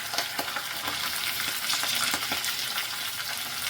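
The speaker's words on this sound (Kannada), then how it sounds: "ಈಗ ಈರುಳ್ಳಿ ಕೆಂಪುಗಾಗೋವರೆಗೂ ಸ್ವಲ್ಪ ಈ ಥರ ನೀಟಾಗಿ ಫ್ರೈ ಮಾಡ್ಕೊಳ್ಳೋಣ" Onions frying in oil for a capsicum curry with green chilies, a constant close hiss of sizzling broken by repeated scraping stirs of a spatula, no talking.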